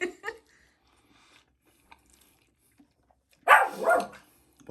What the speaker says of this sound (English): if you're wondering why Buster wasn't barking before, we grabbed him with his dinner.